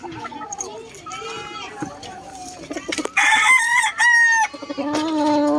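A rooster crows loudly and close by, with clucking and a person talking around it.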